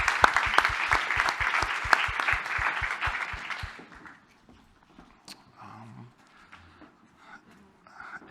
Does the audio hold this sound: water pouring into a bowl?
no